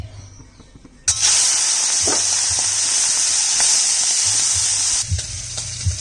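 Shrimp frying in hot oil in a wok, a loud, steady close sizzle that erupts suddenly and holds for several seconds, then drops back to a quieter crackle, with no voices.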